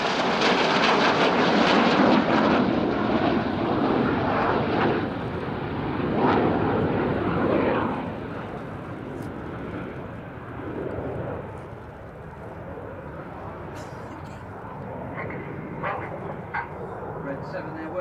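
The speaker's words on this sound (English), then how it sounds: "Red 7 there working hard, flying his jet only 8 feet from Red 6, but doing it while he's inverted" Red Arrows RAF jets roar overhead in an aerobatic formation display at an air show, a loud sustained engine rumble that gradually fades and thins, with a commentator talking over it.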